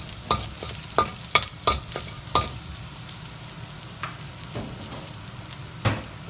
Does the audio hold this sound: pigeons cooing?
no